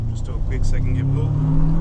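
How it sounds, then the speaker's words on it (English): A heavily modified 2006 Subaru Forester XT with about 300 horsepower accelerates briefly in second gear, its engine droning loud and steady from inside the cabin. "Just do a quick second gear pull."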